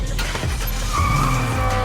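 Race car drifting on an airport runway, loud tire squeal and skidding over a revving engine, a continuous close screech with rising and falling tones and no talk.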